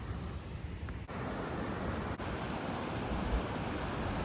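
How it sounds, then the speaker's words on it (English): A mountain waterfall roars as a steady, dense wash of broadband rushing water. It is loud and continuous throughout with no talking. "sounds like there's a waterfall here"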